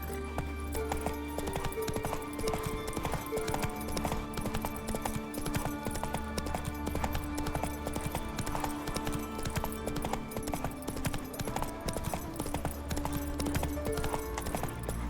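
Horse hooves clip-clop steadily at a gallop in The Witcher 3, a continuous rhythmic pounding mixed with game music and ambience throughout.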